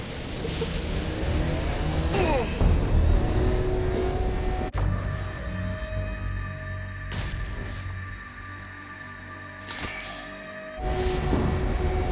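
Car engine driving in the video game Saints Row: Gat out of Hell, a steady loud motor drone with rising revs and a few sharp transitions, running continuously with no talk.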